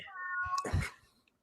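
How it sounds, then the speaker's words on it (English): A house cat meows near the microphone, one drawn-out call with a rising then falling pitch and a short throaty trill at its end, loud and close, followed by quiet. "There's a cat meowing on my end right now."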